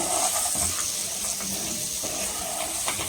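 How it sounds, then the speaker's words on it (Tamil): Eggplant pieces roast in hot oil in a pan over low heat, giving a steady, close sizzling hiss with faint crackles throughout. "இந்த கத்திரிக்காவை நம்ம நல்லா ரோஸ்ட் பண்ணிக்கணும் நல்லா வந்து ஆயிலே வந்து குக் ஆகிடும்"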